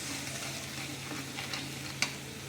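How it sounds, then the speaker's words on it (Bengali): Ground spice paste goes into hot oil tempered with nigella seeds while cooking parshe fish with sesame paste and eggplant, giving a soft steady sizzle with light stirring and one brief sharp clink near the end. "এবার এখানে যে বাটা মশলাটা তৈরি করেছি এবার বাটা মশলাটা দিয়ে দেবো।"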